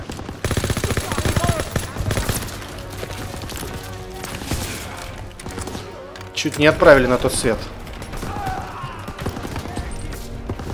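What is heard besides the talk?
machine gun firing in video game Call of Duty WWII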